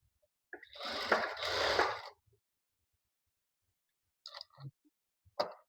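A sewing machine stitching a boat neck blouse whirs in one run of about a second and a half, then gives a few brief stitching bursts after a pause, close by and moderately quiet.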